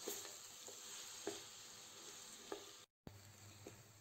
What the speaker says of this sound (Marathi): आता हा तुपात छान परतवून घेऊया नरम होतपर्यंत।